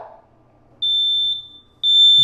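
A household smoke detector's test button sets off shrill, piercing, high-pitched alarm beeps: one long tone, a short pause, then another tone that is still sounding when the clip ends. The beeps are loud and close, with no speech audible.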